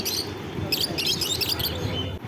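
Small cage birds such as lovebirds and conures at a bird market, with dense overlapping high chirps and tweets in bursts over a low market hum.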